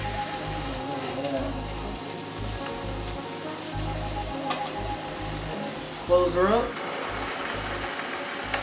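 Steak for fajitas sizzles on a grill with a loud, constant crackle. A lid or hood is briefly handled partway through, and someone speaks a few words over the cooking.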